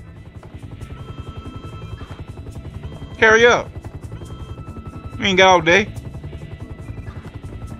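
A helicopter in Grand Theft Auto V keeps up a constant rotor thump and whine under the scene while characters talk in short bursts over it.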